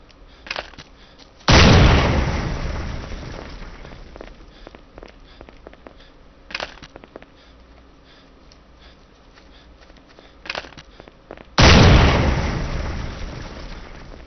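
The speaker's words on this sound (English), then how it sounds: "I'll throw a flashbang in here" In the Ghost Recon video game, a thrown flashbang grenade goes off in a loud, sharp blast with a long decaying ring, followed by scattered small sounds and then a second equally loud burst.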